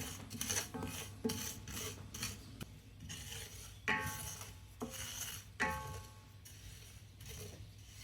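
Shahi jeera and fennel seeds dry-roasting in a pan over low heat, stirred so they rasp and scrape against the metal in repeated strokes with occasional light clinks, close and steady.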